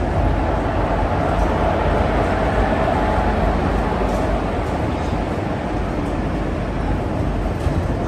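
A loud, continuous low rumble of a train on the Hisar to Old Delhi route rolling along the tracks, steady and close, with no voices.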